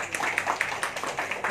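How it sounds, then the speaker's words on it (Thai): Guests at a Thai wedding procession clap to welcome a woman who arranged the dowry, a moderate crowd of hands patting in a loose, slightly rhythmic patter close by. "ขอเสียงปรบมือต้อนรับเธอค่ะ"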